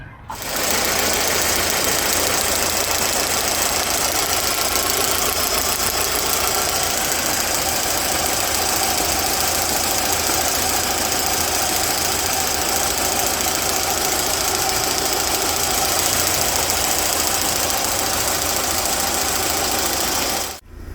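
A car engine runs steadily on LPG after an iridium spark plug change, with a continuous mid-pitched hum and a slightly rough, knocking idle that holds loud and close throughout with no talk.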